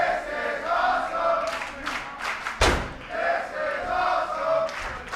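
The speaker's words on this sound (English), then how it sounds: "you can hear the crowd" A large wrestling crowd roars and chants in an arena in Azusa, California, swelling loudly with a sharp thud midway, continuous and reverberant.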